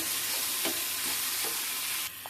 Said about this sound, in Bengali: এবার এর ভিতরে আমি বেগুনটা দিয়ে দিলাম। বেগুনটা দিয়ে এইভাবে নাড়াচাড়া করে নিতে হবে।